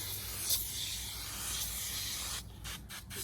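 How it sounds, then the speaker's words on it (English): Pro Strength degreaser sprayed onto a Toyota 3.4 V6 valve cover, a steady close hissing spray lasting about two and a half seconds, then a few short separate bursts. "we're hitting it now with just some Pro Strength degreaser just to get some of this big stuff off"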